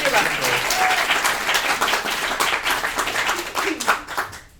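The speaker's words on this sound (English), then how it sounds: "give me a round of applause" Studio audience applause at a charity Taskmaster comedy show, steady dense clapping lasting the whole stretch with voices and some cheering mixed in, tapering slightly toward the end.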